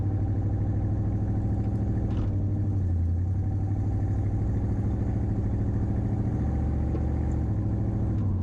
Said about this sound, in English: Let's give her some gas.